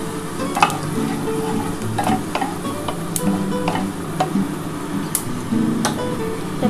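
Panch phoron and two dried red chillies frying in hot mustard oil give a steady sizzle scattered with sharp pops and crackles from the spices, along with scraping stirs, close and with no talk.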